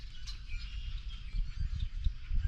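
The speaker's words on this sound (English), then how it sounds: "Enjoy listening to these birds." Faint, scattered bird chirps drift over a steady low rumble outdoors while fishing from a tiny boat, with soft irregular patters underneath.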